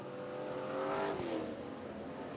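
Speedway race cars at the Lismore Speedway AMCA Nationals A-Main charge through turns 1 and 2 over rutted dirt, a loud sustained engine roar that swells and fades as a car passes close by.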